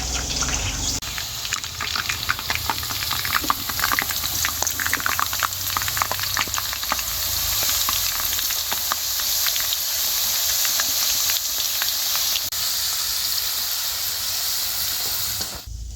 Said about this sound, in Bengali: তেলের মধ্যে দিয়ে খুব ভালো করে ভাজবো